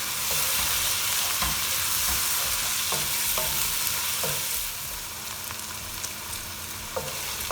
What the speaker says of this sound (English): To this I'm going to add now my green peppers.